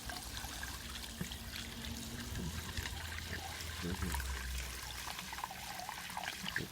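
Water is poured into a container over rabbit droppings to steep, a continuous soft trickling and splashing pour with no voices.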